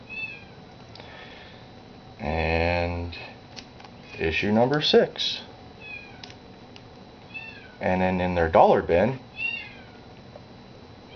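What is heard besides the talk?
kitten meowing, eight-week-old cat locked in a room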